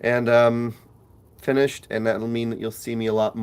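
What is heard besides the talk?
No distinct noise like a dog, phone or traffic.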